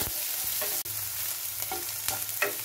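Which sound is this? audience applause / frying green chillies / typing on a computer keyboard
frying green chillies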